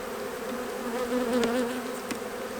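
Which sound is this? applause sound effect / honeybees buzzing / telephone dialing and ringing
honeybees buzzing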